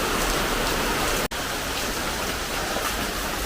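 Steady evening rain falls in a constant, dense hiss, loud and even throughout except for a split-second dropout, with no voices.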